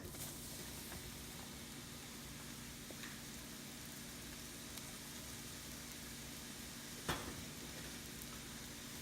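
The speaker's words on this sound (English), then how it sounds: "We're gonna stir fry the shiitake mushroom." Shiitake mushrooms stir-frying in hot oil in a pan, a steady broadband sizzle running throughout at moderate level, with one brief louder burst near the end.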